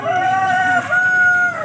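A rooster crows at a rural fishing spot in the suburbs, two long drawn-out calls in close succession, loud and near, with no talking over it.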